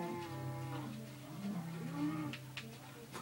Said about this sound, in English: Whoa, baby cow? Baby cow escaped.